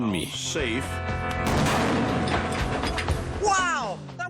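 A loud, rumbling blast rolls on for a couple of seconds, with voices talking before and after it.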